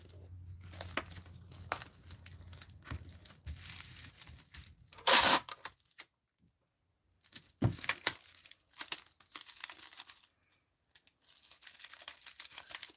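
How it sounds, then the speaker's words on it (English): A shipping label being peeled off a bubble mailer, with bursts of crinkling and tearing plastic, one sharp rip in the middle, then scattered rustles and handling noises after a short pause. "If this wants to actually peel off of here so I can get to the sticky part."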